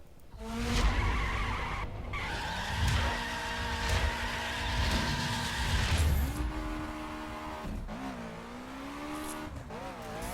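A sports car in the racing game The Crew holds its engine at high revs, a loud, steady, screaming drone that climbs and dips through gear changes, with tire squeal mixed in.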